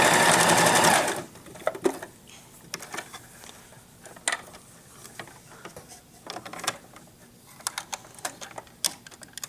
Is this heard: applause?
no